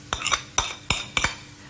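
A spoon works about a tablespoon of honey into roughly 80 grams of softened butter in a bowl, making four close, rhythmic scraping and clinking strokes at an even pace, with no talking.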